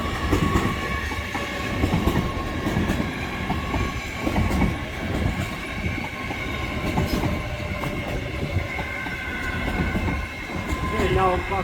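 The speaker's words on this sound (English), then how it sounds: "So we've got one of LNER's 9-car Azuma sets." A nine-car LNER Azuma passenger train rumbles steadily through Doncaster station, with continuous rail noise, faint wheel clatter and a brief squeal near the end, fairly close and loud with no talk over it.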